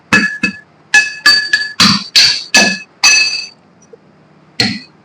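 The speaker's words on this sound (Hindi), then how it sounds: "ठोक ठोक के इसे सारी माटी निकाल देना है" Sharp hammer strikes, about ten of them in an uneven rhythm, knock dried soil loose, each hit ringing with a bright metallic clink, close and loud.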